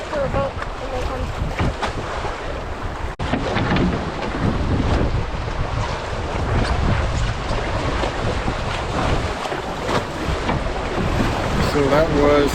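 Strong windstorm gusting across Lady Evelyn Lake in Temagami during a canoe trip, a loud, constant roar of wind buffeting the microphone with surging waves, no voices.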